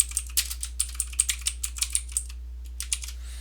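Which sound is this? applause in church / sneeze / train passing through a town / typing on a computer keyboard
typing on a computer keyboard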